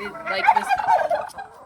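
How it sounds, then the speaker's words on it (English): Farm turkeys gobble repeatedly in a loud, close, continuous burst of rapid warbling calls, with no talk over them. "Every time I talk, the turkeys want to interrupt."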